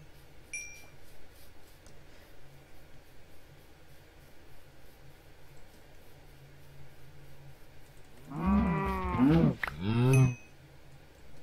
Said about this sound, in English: Are the cows breeding as much as the zombies?